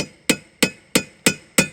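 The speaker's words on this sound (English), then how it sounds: "let me put one chisel here and hammer it just a little bit" Chisels struck with a hammer to wedge behind a steering wheel and pop it off: five sharp, evenly spaced metallic taps with a ringing, clinking tail, close and clear with no talk.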